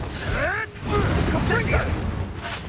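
Confringo fire spell blasts in Hogwarts Legacy, booming explosive bursts with crackling debris over a rumbling low backdrop, while a voice speaks over them.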